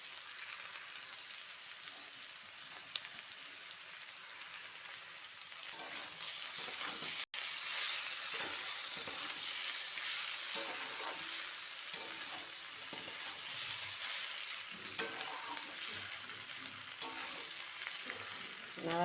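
Chopped tomato and chilli frying for potato and egg bhujia, a long steady hiss of sizzling with occasional light stirring taps and a sudden louder burst midway, fairly quiet and without speech.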